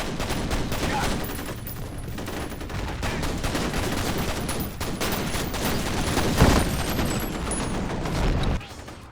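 Dense, continuous gunfire from the FEAR multiplayer Refinery map, a steady fusillade of overlapping shots with a brief louder burst near the end, the firing carrying on without a pause for most of the clip.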